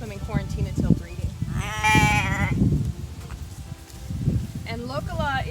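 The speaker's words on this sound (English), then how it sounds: "These are the two ewes that we brought in from Wisconsin." Two ewes in a barn on a sheep farm bleat several times, loud and near, with a person talking in between and over the calls.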